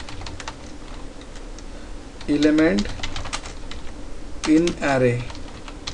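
Typing a code comment on a computer keyboard, with steady, close key clicks running throughout as someone speaks Hindi over them in two short bursts.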